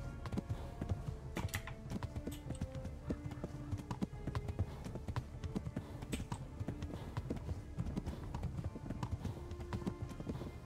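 Horse hooves clip-clop in a steady, rapid galloping rhythm in the medieval role-playing game Kingdom Come: Deliverance, fairly faint and continuous throughout, with a little soft talk in the background.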